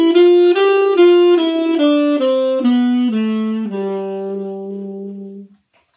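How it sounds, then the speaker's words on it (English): A G Mixolydian scale played as a clear run of separate sustained notes on a melodic instrument, stepping through the scale and settling on a long-held low final note that fades out, heard alone and close. "If I play the scale up and down, it sounds like this."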